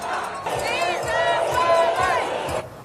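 Demonstrators cheer as church bells ring in solidarity, a loud crowd roar with high shouts and whistles rising and falling for a couple of seconds before cutting off.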